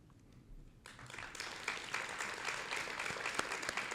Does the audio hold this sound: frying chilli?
no